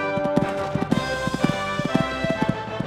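Rhythmic hoofbeats of a horse moving over ground during a beginner-level horse trials event in Sydney, with close, clear clip-clop strikes in an even gait lasting the whole stretch.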